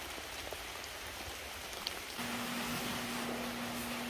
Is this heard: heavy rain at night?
yes